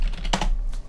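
Short burst of typing on a computer keyboard, a few quick close clicks of keys being struck in rapid succession.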